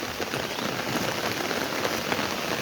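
Steady rain falling on surfaces, a dense even patter that continues throughout with no voices.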